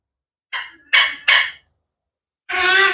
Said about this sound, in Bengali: এরা কিন্তু খুবই সুন্দর এবং ফ্রেন্ডলি স্বভাবের পাখি